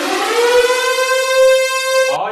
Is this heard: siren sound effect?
yes